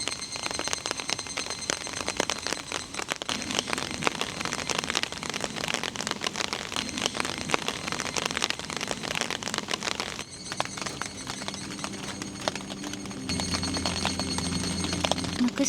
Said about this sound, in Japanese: 今予報にない雷と雨が押し寄せています。